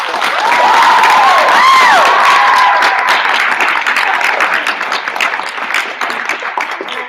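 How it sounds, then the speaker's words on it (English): An audience at a high school speech team recognition night breaks into applause and cheering, with a whoop rising over loud clapping that gradually thins into scattered claps. "So I'd like you to give a huge round of applause to Coach Joyce."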